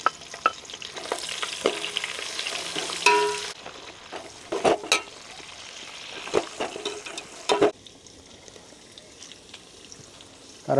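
Whole spices dropped into hot oil for a biryani, sizzling and crackling steadily up close while being stirred, with occasional clinks of a ladle against the pot and the sizzle easing off toward the end.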